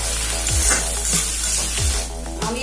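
Chili garlic paste is stirred in a frying pan with prawns and taro stolons, a loud continuous sizzle with periodic spatula scrapes and a low steady hum.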